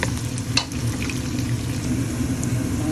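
Onion and garlic sauté in a hot pan, a continuous crackling sizzle with a few sharper spits and stirring scrapes, fairly close and steady throughout, with no talking.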